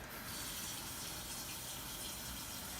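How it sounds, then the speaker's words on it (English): Hot water gushes into a container in a steady, faint hiss of pouring liquid that runs unbroken throughout, with no talk. "So let's go ahead and fill it with hot water."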